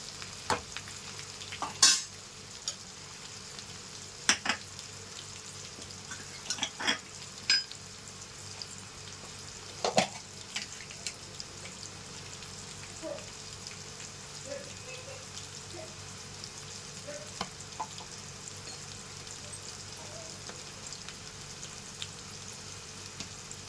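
Chicken pakodi fries in hot oil with a steady, soft sizzle while a spoon stirs it, giving occasional sharp scrapes and clinks against the pan, fairly quiet and close.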